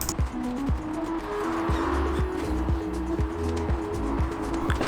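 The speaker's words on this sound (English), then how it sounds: "I'm going to reverse mount the rim as well on the tire machine" A shop tire machine reverse-mounts low-profile wide tires onto bronze Niche M227 wheels with gloss black lips for an S550 Mustang, its motor whirring in a repeated rhythm of short turns with steady mechanical hum, close and continuous.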